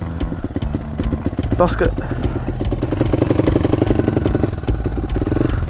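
A YCF 190 pit bike engine runs steadily with the choke off, a loud, close, continuous motor drone with a clattery edge, while someone speaks over it.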